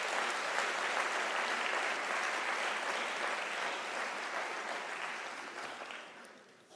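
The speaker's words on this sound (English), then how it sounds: "can we give a warm round of applause to our diplomats and our graduates?" Graduates at a University of South Africa graduation ceremony receive applause, a dense, loud wash of clapping from a large crowd filling the hall, sustained evenly before gradually fading toward the end.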